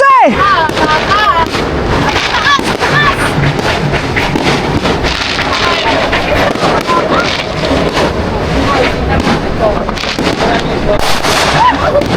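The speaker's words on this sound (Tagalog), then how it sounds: "Ang aga nila nagpaputok! Wala pang alas 12!" Firecrackers and fireworks popping and cracking continuously just before New Year's midnight in the Philippines, dense overlapping bangs near and far with wind noise, while a voice shouts over them.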